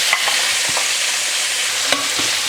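Bacon slices, offcuts and pieces of liver fry in a pan while being stirred, giving a loud, steady sizzle with a few scraping clicks from the utensil, close and with no voices.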